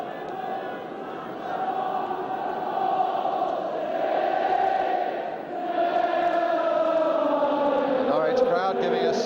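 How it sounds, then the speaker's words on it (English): Norwich City supporters at Wembley Stadium for the 1973 League Cup Final sing On the Ball City, a massed chant that carries steadily and swells with echo across the whole stretch. "The Norwich crowd giving us another version of On the Ball City."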